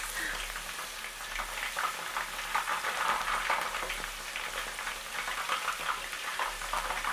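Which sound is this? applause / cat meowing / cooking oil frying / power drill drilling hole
cooking oil frying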